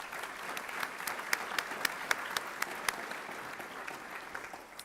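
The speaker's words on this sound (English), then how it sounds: "Let's give them all a round of applause." A crowd applauds steadily at a student honors and awards reception, a dense patter of clapping with a few sharper individual claps standing out, fading slightly toward the end.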